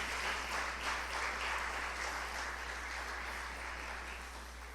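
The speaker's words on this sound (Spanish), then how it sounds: "Vamos a darle un fuerte aplauso a todos ellos" A congregation at a church service claps in a sustained, fairly faint round of applause that slowly tapers, with a steady low hum running beneath.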